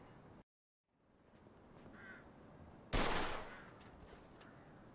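A gun fires at an old car wreck in Mafia 2, with one sharp, loud shot cracking out against quiet game ambience after a brief silence and a short echoing tail.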